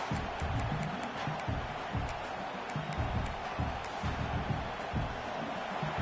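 A packed college football stadium roars in a steady, dense wash of crowd noise as the visiting offense lines up, a loud continuous din without distinct voices.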